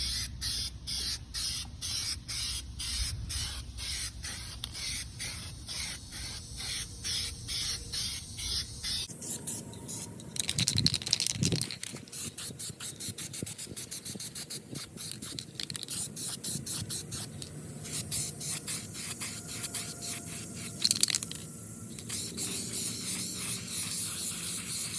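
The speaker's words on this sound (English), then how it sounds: "hit it with the Duplicolor Perfect Match, Olympic White." A can of Duplicolor Perfect Match Olympic White spray paint is worked close by, with rapid rattling clicks first, then long hissing spray bursts broken by short pauses, applied to a Chevrolet Silverado.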